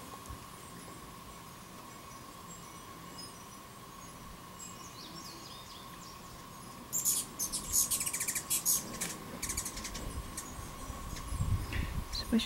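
A small injured bird chirps in short bursts of high, thin calls, close by and fairly faint, scattered over a steady low background hum with light rustling.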